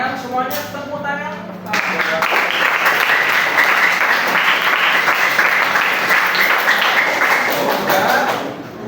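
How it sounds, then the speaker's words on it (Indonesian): A second-grade social studies class bursts into applause after a voice speaks briefly, the clapping of many small hands loud, close and sustained for several seconds before easing slightly. "Ulangan semuanya tepuk tangan"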